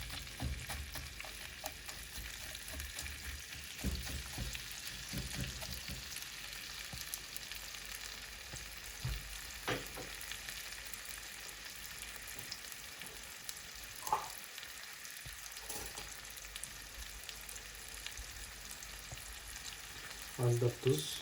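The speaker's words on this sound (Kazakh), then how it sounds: "енді жуамызбен тәтті бұрышымызды жақсылап қуырып аламыз" Onion and sweet pepper fry in hot oil in a pan, a steady close sizzle that runs throughout, broken by scattered clicks and scrapes of stirring and one brief louder clatter near the end.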